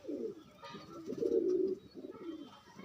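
A sick pigeon recovering from a cold coos in low, throaty bursts, a few rolling calls close by and fairly loud, rising and falling through the stretch.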